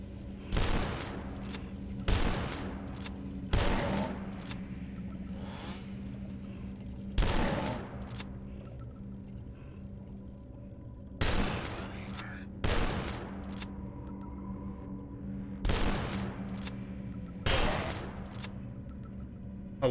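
Gunfire rings out in the retro shooter video game DUSK, about nine sharp, loud shots spaced irregularly over a low droning background.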